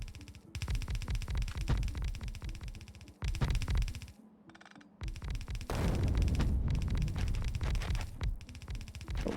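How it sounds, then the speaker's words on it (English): Explosions from the video game Factorio, used in a Space Exploration playthrough, come as repeated loud booming bursts with brief gaps between them, separated by short near-silences. "Don't know what that explosion was."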